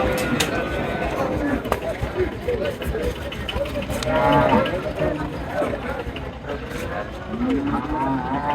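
Dairy cattle, Holstein and Friesian cows, lowing at a large livestock market in northern Bangladesh, with several moos rising over steady crowd chatter and trading voices throughout.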